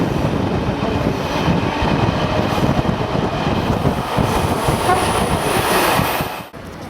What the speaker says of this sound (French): nous croisons une rame neuve et moderne qui assure un service omnibus